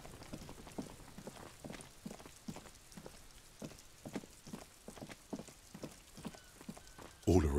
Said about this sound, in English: Rain drips from the eaves and floods the gutters, washing the filth away